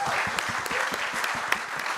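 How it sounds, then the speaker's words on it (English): An audience applauds a panel at a talk, steady close clapping throughout with a few sharper individual claps standing out. "Can we give our panel a round of applause?"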